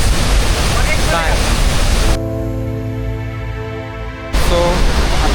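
A swollen waterfall on a hillside trek roars loudly and steadily. Midway the rush drops to a quieter stretch carrying a humming, voice-like tone, then the full roar returns.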